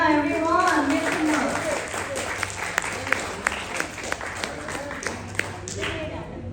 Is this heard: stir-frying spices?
no